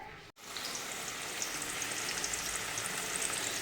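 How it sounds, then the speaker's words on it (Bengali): Pumpkin pieces fry in a pan with a continuous soft sizzle and crackle, fairly faint and steady after a brief dropout at the start, with no talking. "এই যে কুমড়ো ভাজা করছি"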